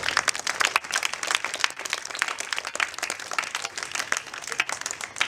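Children clap in brisk, uneven bursts to welcome a woman arriving at a school courtyard, close and lively with sharp individual claps throughout.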